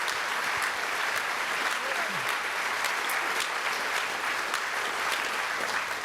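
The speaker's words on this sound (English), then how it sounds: "Let's have a round of applause for Michael Ralston on piano." Dense, steady applause from a gala show audience for a pianist, even and sustained throughout without speech over it.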